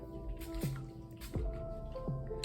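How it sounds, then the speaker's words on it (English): Water is sprayed from a bottle around the hairline in a few short, soft hissing bursts spaced about a second apart, each followed by faint dripping tones against a quiet indoor background. "spray my water around the border of my hair"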